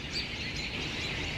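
Cedar waxwings and robins call from a holly tree outdoors in snow, thin high chirps and whistles repeating over steady background noise.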